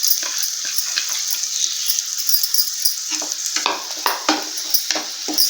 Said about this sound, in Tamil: இப்போ நம்ம தேங்காய் பேஸ்ட்டை சேர்த்துக்கிறலாம்.